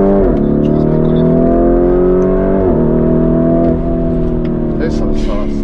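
A Lamborghini Urus engine revs loudly and close up as it accelerates hard, its pitch climbing through several gear shifts, with people talking over it.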